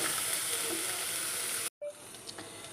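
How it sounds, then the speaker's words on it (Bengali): Onions frying in a pan with ginger, garlic and green chillies for a butter masala base, giving a steady, close, bright sizzle that cuts out briefly and then resumes more quietly. "পেঁয়াজটা আমার ফ্রাই হয়ে গেছে"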